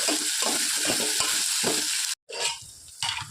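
Radish and onion frying in a pan for sambar, a steady bright sizzle with rhythmic scraping strokes of a spoon stirring, a brief break, then more stirring and crackling close by.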